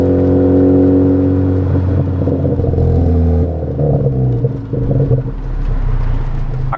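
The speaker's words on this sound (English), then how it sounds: "when you open it up, you want to be able to hear an exhaust that makes you happy" A 2016 Ford Focus ST with a Ford Racing sport exhaust rumbles loudly and steadily, with a deep droning note that grows rougher and busier midway as the engine works harder.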